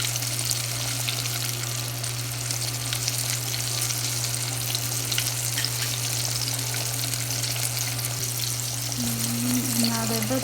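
Tempura vegetables and breadcrumb-coated pieces fry in hot oil with a steady, loud sizzle and crackle close by, over a constant low hum.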